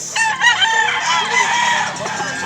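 A large bullstag rooster, about two years old and offered for sale, crows once in a long loud call right up close, followed by faint clucking.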